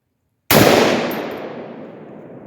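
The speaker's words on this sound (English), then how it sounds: "Okay, it's pleasant to shoot." A single loud, close gunshot from a Palmetto AR-10 rifle firing 150-grain Freedom Munitions .308 rounds outdoors, a sharp crack followed by a long fading echo and no speech.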